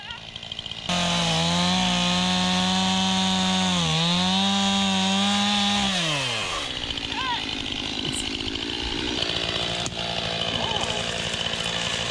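A loud chainsaw runs steadily, its engine pitch dipping and rising as it bites into wood, then winds down and dies, leaving rough background noise.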